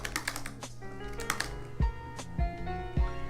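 Fingers type on an Apple MacBook Pro laptop keyboard, a close, rapid clatter of key clicks with a few heavier thumps, likely from the space bar, and no talking.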